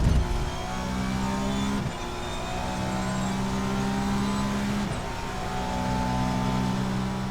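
A race car in the Assetto Corsa sim with touchy brakes drives hard, its engine droning steadily and loudly. The revs climb in long sweeps and dip sharply at two gear changes, and no one speaks.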